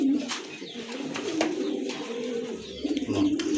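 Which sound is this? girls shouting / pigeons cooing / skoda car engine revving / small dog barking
pigeons cooing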